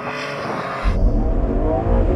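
Several performance cars, a BMW M2, Audi RS3, AMG A45 S and Porsche Boxster GTS, launch together off the line in a drag race, a loud low engine roar surging in abruptly and holding strong.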